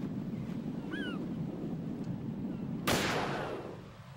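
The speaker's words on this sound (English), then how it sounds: "This is one of my last 4 bullets out of my sniper rifle." Single sniper rifle shot in the stealth video game Metal Gear Solid 2, one sharp loud crack with a short rumbling tail over a windy, sea-like ambient wash, no talk.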